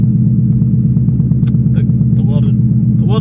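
A 2020 Mustang GT drift car with a welded differential on its first test drive gives a steady, deep V8 rumble at near-constant pitch, with someone talking briefly over the engine.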